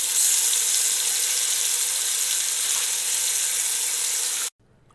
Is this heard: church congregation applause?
no